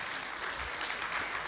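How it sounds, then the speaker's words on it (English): University audience applauding in a hall, steady dense clapping from a crowd that holds even throughout. "Let's clap for them."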